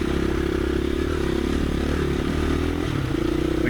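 A Honda CRF450L dual sport motorcycle riding on a trail, its engine droning loud and close with steady rumble and rattling clatter throughout.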